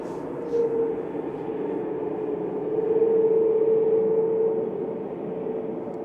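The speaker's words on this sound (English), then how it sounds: "Swiss A321 coming in from Zurich, flight 390, HBYLO." Swiss Airbus A321 arriving at Manchester Airport from Zurich, heard as a steady distant jet roar that swells in the middle and fades again, with a faint tonal whine and no talking.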